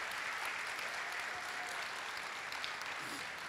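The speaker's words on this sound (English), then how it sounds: "Come on, let's give them a round of applause." An audience at an academy's culminating event gives a round of applause for sponsors, a steady, even wash of clapping that sounds faint and distant.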